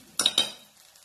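Flattened rice (poha) added to a pan, heard as two quick close scrapes or clinks of a utensil against the pan followed by a fading, quiet tail.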